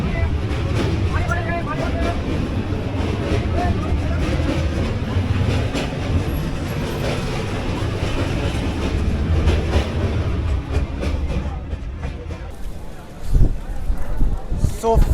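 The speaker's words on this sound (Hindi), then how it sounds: "और अब ये नया पुल जिसमें हमारी ट्रेन चलती है।" A passenger express train rolls across a new rail bridge, heard from inside a general coach. It makes a steady, loud rumble with clattering wheels throughout, and faint voices mix into the noise.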